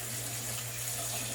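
Hot water runs steadily from a household tap while a Worcester Bosch boiler with error code H09 is being tested. It is a continuous close hiss and splash over a low hum, with no voices.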